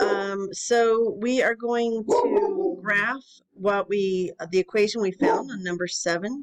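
A pet dog yips and barks faintly during a math lesson, the small sounds partly buried under steady, close talking by a man.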